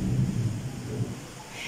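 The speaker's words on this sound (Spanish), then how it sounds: "Está empezando a tronar y la tempestad, hay bastante agua" Rumbling thunder rolls under a steady wash of heavy rain during a storm, the low rumble loud at first and fading while the downpour continues evenly.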